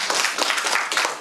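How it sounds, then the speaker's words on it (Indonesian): A university event audience breaks into a short burst of applause, a dense spatter of many hands clapping at moderate volume for just over a second. "Tepuk tangan untuk mereka."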